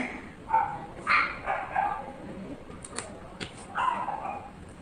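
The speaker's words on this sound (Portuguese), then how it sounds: "Late, doguinha, late com vontade, late até ficar louco" A dog barks repeatedly in short, sharp bursts at moderate distance, irregular rhythm, with quieter yips between barks.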